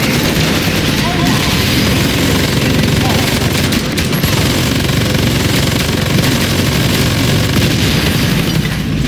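Pistol gunfire in the shooter game Warface comes as dense, loud, continuous bursts of shots and booms, with no quiet moment in between.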